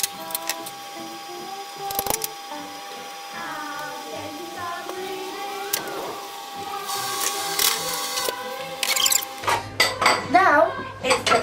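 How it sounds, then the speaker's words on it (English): Dishes, pots and pans are washed up after baking cookies in a home kitchen, with intermittent clinks and clatters of crockery and utensils, close by and irregular. "Now it's the fun part, washing up."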